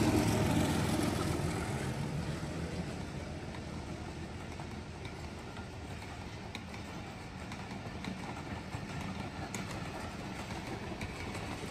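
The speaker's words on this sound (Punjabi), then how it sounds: "ਲੋ ਜੀ ਟ੍ਰੇਨ ਆ ਗਈ ਹੈ।" A train pulling into a Pakistan Railway station, a loud low rumbling and engine drone that is strongest at first and then settles into a steady close roar with no talk.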